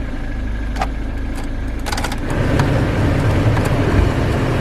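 A parked motorhome's engine turns over and catches, settling into a low, steady idle that grows a little louder and fuller after the first couple of seconds, heard up close with no talking.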